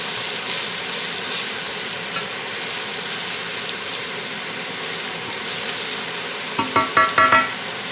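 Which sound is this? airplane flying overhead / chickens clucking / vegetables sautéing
vegetables sautéing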